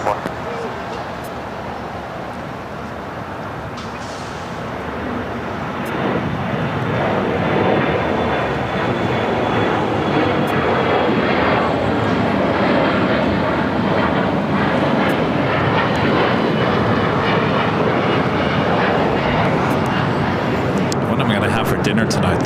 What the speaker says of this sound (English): clear for takeoff, JetBlue 424